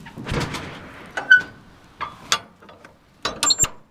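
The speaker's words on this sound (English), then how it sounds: "I'm going to shut this door before I get heated out of here." Metal door on an outdoor wood-fired boiler being swung shut and latched, a series of close clanks, scrapes and ratcheting clicks with short pauses between them and no talk.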